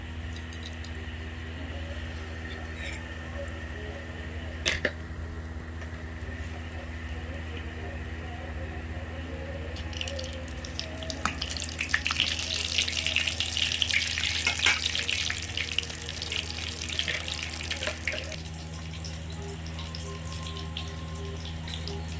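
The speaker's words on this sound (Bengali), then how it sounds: "হালকা আঁচে আমি এগুলো ভেজে নেব।" Snack pieces coated in breadcrumbs fry gently in a wok over low heat, giving a soft, continuous bubbling sizzle that swells in the middle and then eases. A steady background hum runs beneath it.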